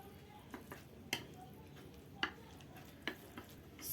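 Samyang spicy chicken noodles being mixed in a bowl: a few sharp, spaced clinks and scrapes of utensils against the dish, with soft wet stirring in between, close and moderately quiet.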